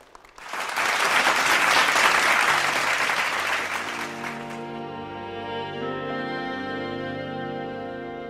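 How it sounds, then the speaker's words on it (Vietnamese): Loud, dense audience applause in a television show studio swells up quickly and holds for several seconds, then fades as sustained music with steady tones takes over. "Chúng ta dành một tràng vỗ tay để chào Hoàng Phúc."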